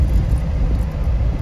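A 2015 Mahindra Bolero ZLX rolls along a village road at about 50 km/h, its engine and road rumble a steady, loud, low drone heard from inside the cabin with no talking.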